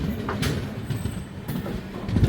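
Rumble of the Mandovi Express running, with a steady low roar and faint rattles and squeaks from inside the carriage, fairly quiet throughout.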